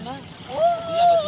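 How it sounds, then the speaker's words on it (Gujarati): A boat moving on the river at Kashi gives a steady, droning hum at moderate distance, with faint voices in the background. "પાછળ જો હોડી કે જાય છે,"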